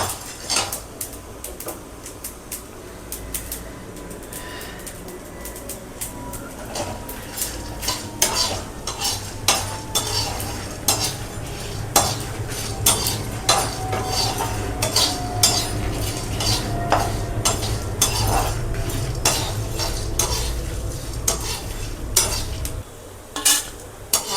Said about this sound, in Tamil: இது பாருங்கள், கடுகுனுடைய பொரி இருக்குது